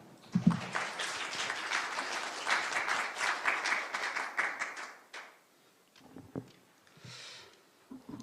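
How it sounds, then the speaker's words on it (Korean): Applause from an audience at an evening conference for regional software companies, a dense burst of clapping lasting several seconds before fading into scattered claps and quiet. "여러분 박수 부탁드립니다"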